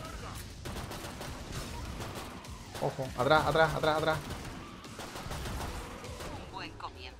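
Gunfire rattles in a co-op match of the video game Killing Floor 2 against zombies and monsters, rapid shots bunching together mid-clip beneath players shouting over one another.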